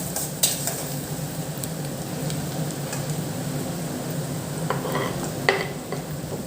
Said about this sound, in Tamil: நல்லா கோல்டன் ப்ரௌன் வர வரைக்கும் நல்லா வதக்கலாம்